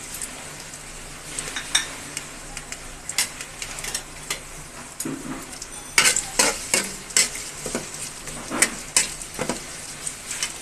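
Three to four chopped onions fry in white soybean oil, a busy sizzle broken by repeated sharp scrapes and clacks as a spatula stirs them in the pan, with no one talking.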